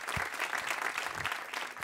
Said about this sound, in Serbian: Može aplauz za njih.